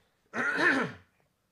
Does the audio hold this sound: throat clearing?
yes